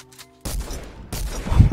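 Infantry rifle fire in the video game Fortnite, two loud, close, booming shot bursts about half a second apart with a short lull between them.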